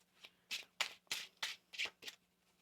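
Tarot cards are riffled in six quick, crisp bursts, each a papery rush of flicking edges, close and quiet over a faint low hum.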